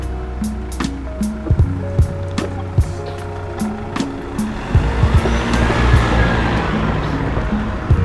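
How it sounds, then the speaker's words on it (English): A car passes by outdoors, a broad rising and fading whoosh of tires and engine swelling through the middle and end, over a steady low background hum with scattered clicks. "oh, there's a car."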